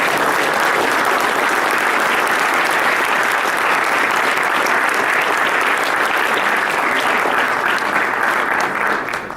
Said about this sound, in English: I really want to give you a big applause for this.